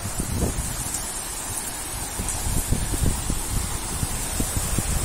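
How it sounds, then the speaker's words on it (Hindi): Strong storm wind with heavy pelting rain under dark clouds in Bihar, a steady broadband roar with dense low gusting buffets and scattered drop impacts, loud and continuous throughout with no one speaking. "जोरों की आंधी है, काफी तेज बारिश हो रही है।"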